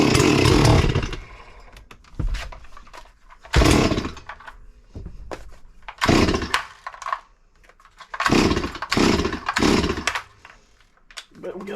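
A ported Farmertec MS440 kit chainsaw with a possible carb problem starts and revs in repeated loud bursts that bog and die between throttle blips, close by, with someone talking in the quieter gaps.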